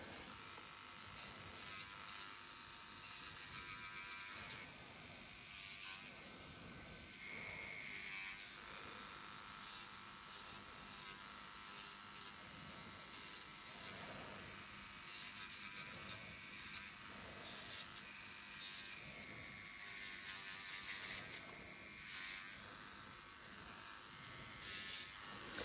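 Electric nail file buzzing steadily as it files dry skin during a manicure, a continuous high-pitched whir with slight changes in pitch as pressure shifts, close and alone with no talk.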